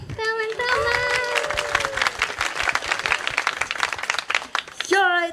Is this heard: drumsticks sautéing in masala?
no